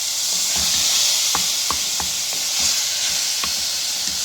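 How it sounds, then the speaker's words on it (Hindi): Beef mince, 250 grams, sizzling in a hot pan for keema kachori filling: a steady, loud frying hiss throughout, broken by a few sharp clicks and taps of a utensil against the pan. "250 ग्राम में बीफ का कीमा ऐड कर रहे हैं"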